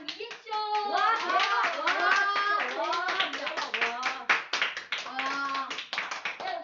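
A classroom of children clapping together, a busy run of hand claps woven through lively chatter and a teacher's voice, all close and fairly loud throughout.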